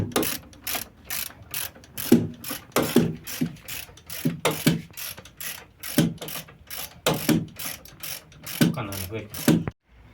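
Ratchet wrench clicks rapidly while loosening the brake caliper guide bolts on an Audi A6 during a front wheel bearing job, bursts of sharp metallic ratcheting with pauses and a faint voice in between.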